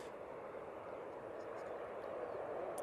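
Airbus A320 airliner on short final approach to runway 05 right at Manchester Airport, arriving from Malaga, giving a steady, broadband jet roar that holds level throughout without letting up.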